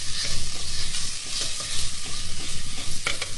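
Curry ingredients for a Lao turkey curry are stir-fried dry in a pan, a loud, close, continuous sizzle broken by rapid scraping stir strokes.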